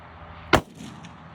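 A single sharp rifle shot from a PRS precision rifle fitted with a muzzle brake cracks out close and loud, then decays quickly into a brief echo over quiet outdoor background.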